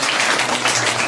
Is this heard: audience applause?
yes